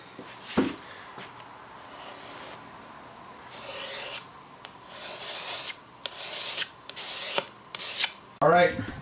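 Timbermate wood filler is pressed and spread into timber, giving quiet scraping and rubbing strokes in irregular bursts close by, with a few louder scrapes near the end.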